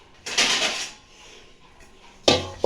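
A lid is set onto a cooking pot, two bright metallic clatters separated by a quiet pause, close and fairly loud with no talk over them.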